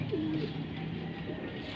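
Racing pigeons in a loft cooing, a soft low throaty coo up close over a murmuring background of other birds.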